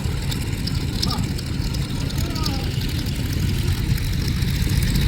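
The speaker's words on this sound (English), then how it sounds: "And here they go, everybody. Taxiing on down towards the runway there." Propeller biplanes at an airshow in Midland, Virginia taxi toward the runway, a steady low engine drone and idling rumble held at a moderate distance throughout, with a public-address voice talking over it.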